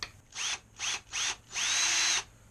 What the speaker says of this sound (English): So I'm going to put this little tiny drill bit in there, get the angle right, get the hole right